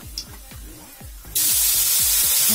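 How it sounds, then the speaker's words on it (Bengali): Fish and garlic hit hot oil in a pan and burst into a loud, steady sizzle that starts suddenly and holds close, following a quieter stretch of light kitchen clatter. "রসুনগুলো দিয়ে দিলাম এটাও হালকা আমি ভাজি করে নিই"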